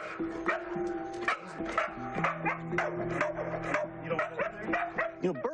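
A calm dog worked up by something in its surroundings barks in a run of repeated woofs and yips, close and fairly loud, mixed with whimpering tones.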